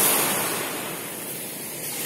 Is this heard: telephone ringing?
no